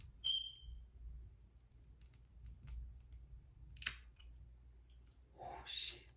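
Scissors snip through a lace wig in a few faint, sparse clicks and cuts against a quiet room, with a couple of sharper snips near the end.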